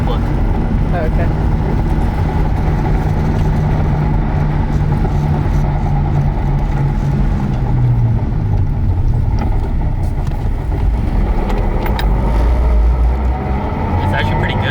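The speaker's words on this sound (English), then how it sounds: "It's just that the trans itself is loud." Inside a Lexus IS300 swapped to a W58 manual transmission, a constant loud drivetrain drone and road rumble fill the cabin while driving, with an engine tone shifting pitch and people talking over it.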